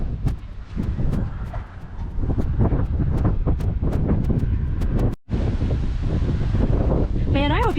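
Strong wind buffets the microphone outdoors along Route 66 in Kansas, a loud, continuous roar with gusty surges and a brief dropout, and a voice briefly audible beneath it.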